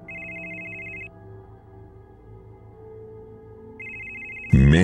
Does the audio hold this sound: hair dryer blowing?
no